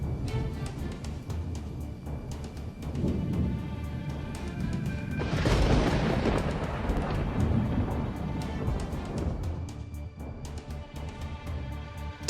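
Thunder from a nearby lightning strike, a loud sudden crash swelling in the middle and rolling off into a long rumble over steady rain.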